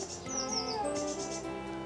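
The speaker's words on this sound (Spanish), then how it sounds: "mientras cantan los pájaros" Birds singing outdoors, heard as short high chirps and whistled notes over a steady tonal background.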